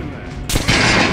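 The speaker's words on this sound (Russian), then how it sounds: "А теперь стрельни по бронированному манекену." Gunfire from a weapon aimed at an armored training dummy in the video game Metro Last Light Redux, heard as a loud sharp blast followed by a sustained burst of shots close up.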